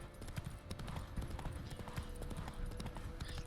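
Roach, a horse in The Witcher 3 video game, clip-clops along in a steady, continuous rhythm of hoofbeats close by, with a faint background bed underneath.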